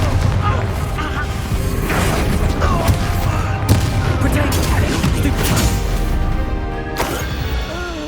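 Confringo blasting spell explosions in Hogwarts Legacy, a dense run of loud booming blasts and crashes repeating throughout amid combat noise, with faint voices underneath.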